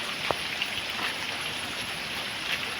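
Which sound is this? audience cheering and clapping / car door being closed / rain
rain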